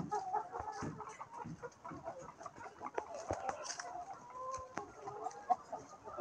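Native chickens cluck and peck while being fed coconut, with soft, irregular clucks and scattered pecking taps over quiet background, fairly close and faint.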